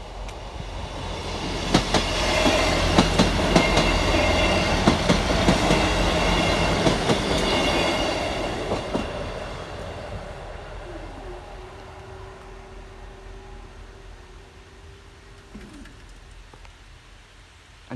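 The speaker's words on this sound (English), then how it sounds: "trains coming from Barnstaple going to Exeter" A train on the Barnstaple to Exeter line rumbles loudly past the Salmon Pool level crossing in Devon, with clattering wheels that fade away, followed by a steady crossing alarm tone and birds calling.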